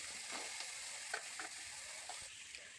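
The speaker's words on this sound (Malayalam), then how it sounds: "ഇതിലേക്ക് നമ്മുടെ കുനുകുന്നനെ കഴിഞ്ഞിട്ടുള്ള സവോള ഇട്ട് കൊടുക്കാം" Finely chopped onions fry in a hot pan with a soft, steady sizzle, broken by a few light stirring scrapes, fairly quiet and close with no voices.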